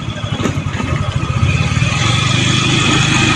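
A motorcycle engine pulses steadily while the bike is ridden, a loud, close, rhythmic mid-range putter that grows fuller and settles into an even drone. No voices are heard.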